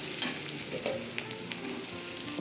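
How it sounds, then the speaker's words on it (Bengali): Onions fry with spices in a pan, giving a soft continuous sizzle with light stirring scrapes, faint and close, with no talk. "পেঁয়াজটা ভাজা লাল লাল হয়ে গেছে, এবার মশলাগুলো করে নেব।"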